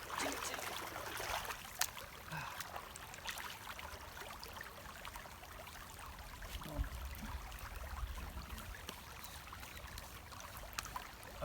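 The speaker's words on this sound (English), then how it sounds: "I hope you can hear me over the rushing river that I'm sitting next to" Rushing river water flowing steadily beside a creek, a continuous broadband roar close by, with a few faint knocks over the constant wash.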